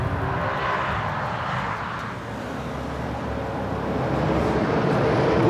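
A 2005 BMW M5 E60 with a 5.0-litre V10 and 7-speed gearbox revs hard through the gears, its engine roar rising and falling steadily with a broad, droning tone and no talk.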